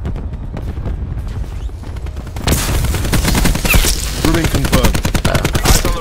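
Gunfire from a gun in Black Ops 4: a scattered exchange of shots, then a loud, fast run of automatic bursts with sharp, evenly spaced reports, close and dominant.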